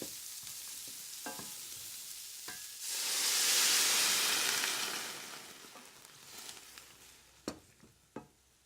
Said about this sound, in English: I'm going to add a little bit of stock as well